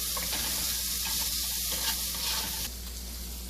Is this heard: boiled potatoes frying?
yes